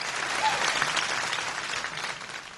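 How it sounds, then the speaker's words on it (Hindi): A full hall erupting in applause, a broad, dense roar of many hands clapping that holds fairly steady and loud from start to finish, with no speech over it. "और पूरा हॉल तालियों से गूंज उठा"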